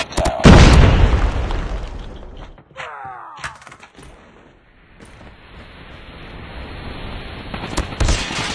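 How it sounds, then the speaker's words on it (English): Orbital laser strike in a video game: a loud booming blast opens, followed by crackling, sweeping debris and further rumbling impacts fading into a low roar, with a second burst of noise near the end. "Friendly orbital laser deployed"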